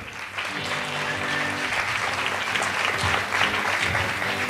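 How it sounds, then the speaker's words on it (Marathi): Loud, sustained applause from a large audience at a live music show, many hands clapping at once in a dense, continuous roar. "एकदा स्वतःसाठी जोरदार टाळ्या वाजवा"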